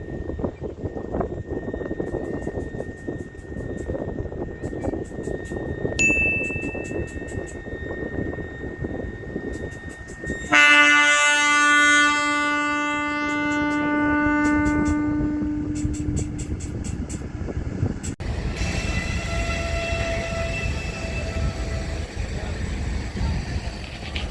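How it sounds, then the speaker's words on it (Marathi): A train rumbles steadily close by at Beed railway station, with tonal hums and whines rising partway through as it moves off, and a voice speaks intermittently over the noise. "ट्रेन निघत आहे आता"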